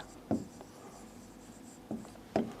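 Chalk or marker strokes on a classroom board as a sentence is written, a few short scraping bursts spaced apart, close and clear with no talking.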